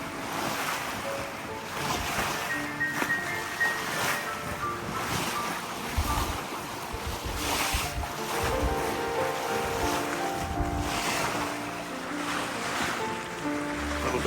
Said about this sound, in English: These lovely waves.